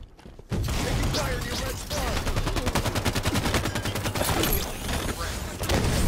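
Rocket launcher and weapon fire in a Halo 5 multiplayer match: loud, dense bursts of rapid gunfire and explosive blasts run almost continuously, with a brief quiet start.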